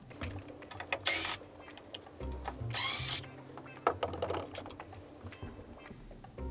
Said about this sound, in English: We'll start with using a T20 Torx bit to remove these two screws right here